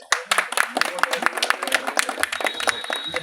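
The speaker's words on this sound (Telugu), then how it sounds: "క్లాప్స్." Crowd clapping at a political rally in Eluru: a dense, steady patter of many hands, quite close and loud, running for a few seconds with voices mixed in.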